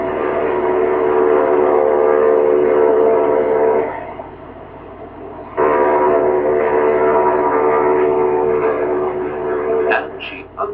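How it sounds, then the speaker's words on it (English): The ocean liner Queen Mary sounds her deep ship sirens while leaving harbour: two long, loud, steady blasts with a short pause between, the second trailing off unevenly. "Right on time, the Mary sounds her sirens."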